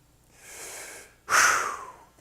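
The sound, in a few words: taking a deep breath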